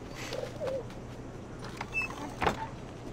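Bird cooing softly in Assassin's Creed 4: Black Flag, a few low dove-like calls over a steady game ambience hum with some mechanical sounds.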